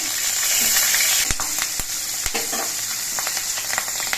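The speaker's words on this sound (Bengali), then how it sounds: "কালো জিরেটা ভাজা হয়ে যাওয়ার পর এর মধ্যে চারটে চেরা কাঁচা লঙ্কা দিচ্ছি" Slit green chillies sizzle sharply in hot mustard oil with nigella seeds. The frying hiss is steady and close, broken by a few sharp clicks and pops as they are stirred in the pan.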